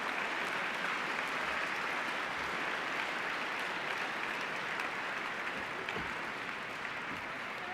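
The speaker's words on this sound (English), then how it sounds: "Nice round of applause for our 16 top schools." An audience at a National Science Bowl awards ceremony applauds, a dense steady wash of clapping that carries on without a break for several seconds, with no talking over it.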